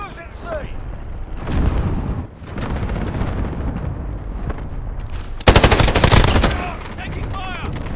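Heavy gunfire in a 64-player Modern Warfare 2019 Ground War match at a quarry, with scattered shots and bursts, then a loud sustained automatic burst near the end, under voices calling out.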